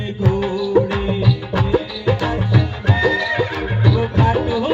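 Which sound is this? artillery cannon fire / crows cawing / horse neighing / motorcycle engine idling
horse neighing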